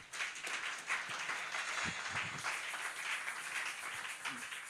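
A church congregation bursts into applause, a dense wash of clapping that holds steady throughout, fairly close and unbroken.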